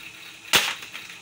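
A single sharp snap of an upgraded Glock 17 airsoft pistol shot at a cardboard box target, close and crisp, with a short ringing tail against a quiet background.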